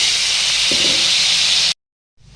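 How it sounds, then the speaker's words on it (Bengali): Potatoes fry in hot oil left over from frying cauliflower in a kadai, giving a loud, continuous sizzling hiss. It cuts off abruptly to silence, then faintly resumes. "ফুলকপি ভাজা তেলের মধ্যে আমি আলুগুলো একটু ভেজে নিচ্ছি"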